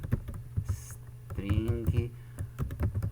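Computer keyboard typing while writing Java code, a quick uneven patter of close key clicks mixed with a voice speaking Portuguese.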